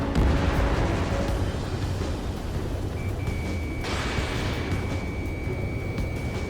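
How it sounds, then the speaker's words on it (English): Explosions rumble during an enemy air raid in the video game Ace Combat 7, a dense, continuous low roar of blasts with a thin electronic tone cutting in midway. "It's air raid. We're being attacked by enemy aircraft."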